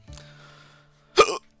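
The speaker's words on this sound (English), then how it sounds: "I just got the hiccups." Two sharp hiccups arrive about a second apart from a gamer playing a Pokémon Renegade Platinum Nuzlocke, close to the microphone, the second louder and breathier.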